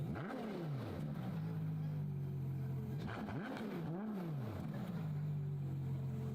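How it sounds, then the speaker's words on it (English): A Ferrari V12 revs in repeated sharp sweeps that rise and fall, then settles into a steady high idle, moderately loud and nearby. "Nothing beats a V12, especially a Ferrari V12."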